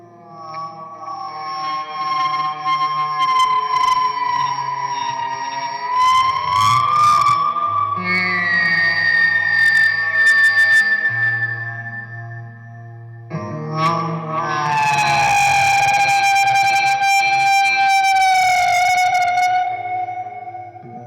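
Guitar played with a lap slide, long sustained tones gliding up and down in pitch with rich harmonics, loud and continuous, pausing briefly midway before a brighter swelling passage.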